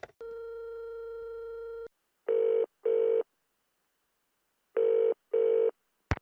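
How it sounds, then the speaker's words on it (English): A phone card call in the Nancy Drew game The Haunting of Castle Malloy: a steady dial tone, then two pairs of short electronic ring or busy tones separated by silence, clean and close with no voices. "If I want to call somebody, I need to use my phone card."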